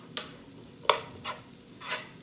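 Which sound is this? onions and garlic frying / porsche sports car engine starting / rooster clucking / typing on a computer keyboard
onions and garlic frying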